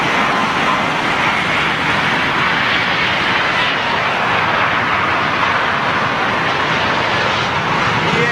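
A Sri Lankan Airlines Airbus A330 landing at Heathrow in stormy weather, a loud steady jet roar with broad wind-like rush throughout, no talking.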